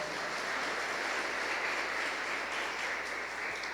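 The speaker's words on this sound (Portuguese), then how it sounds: "aplaudir o Senhor Jesus bem forte?" A congregation at the Igreja Internacional da Graça de Deus in Codó, Maranhão, applauds the Lord with steady, dense clapping, heard somewhat distant and even throughout.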